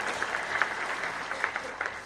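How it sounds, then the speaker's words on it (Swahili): Mourners at a memorial celebrating the life of Nancy Wanjiru Mugo clap together, a fairly faint, uneven patter of hands with a few sharper individual claps standing out. "Tuwapigie makofi tafadhali."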